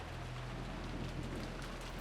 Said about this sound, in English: only the howl of the wind and rain